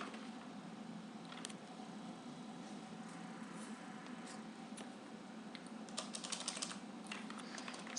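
C program code typed on a computer keyboard: quiet, steady clicking of keys in uneven bursts, with a quicker flurry of keystrokes near the end.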